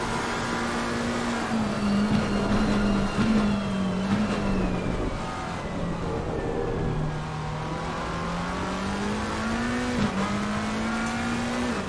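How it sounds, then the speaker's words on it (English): A McLaren GT3 race car in a racing video game at the Hungaroring, its engine droning loud and close as it revs up and down through the gears, with brief tyre squeal. "It's another good sounding car, I think, the McLaren. I like the sound of the McLaren."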